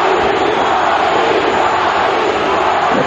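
A boxing arena crowd roars loudly and continuously as spectators try to lift fighter Tapia, forming a dense, unbroken wall of cheering and shouting with no clear individual voices.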